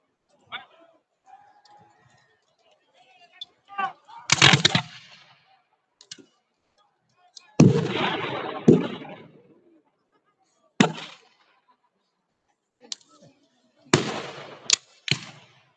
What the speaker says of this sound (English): this invites a concentrated fire from the Union artillery